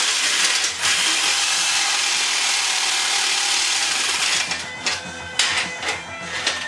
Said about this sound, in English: when you're going around the corners with your jigsaw and metal